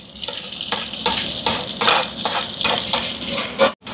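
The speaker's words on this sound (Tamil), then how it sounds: "நல்லா நல்லெண்ணெயில் இந்த மாதிரி சித்தல் மிளகா கருவேப்பிலையெல்லாம் நல்லா வதங்கிட்டு" Steady hiss and crackle of dried chillies and curry leaves frying in hot sesame oil, with rhythmic scraping of a spoon stirring the pan.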